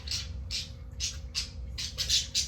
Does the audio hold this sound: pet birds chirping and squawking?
yes